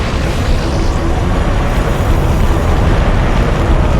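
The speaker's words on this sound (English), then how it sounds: "And he's gonna explode." A dense, sustained roar of Ganon blowing up in The Legend of Zelda: Breath of the Wild, a loud rumbling blast that fills the whole stretch with steady low-heavy noise.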